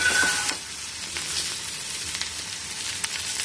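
Cucumber slices fry in oil on a dosa tawa, giving a close, steady hiss that is strongest at first and then settles into a constant sizzle with faint spatters.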